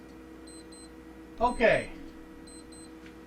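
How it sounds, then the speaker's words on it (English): A stopwatch gives faint, high electronic beeps in two short double pulses, one early and one late, with a brief spoken word and a louder voice in between. "I know it's all about you and your beeping."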